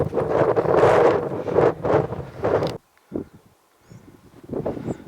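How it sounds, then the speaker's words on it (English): Wind gusts buffet the microphone out on open moorland, loud rumbling bursts that cut out abruptly and return more softly after a brief lull. "The wind is dying down."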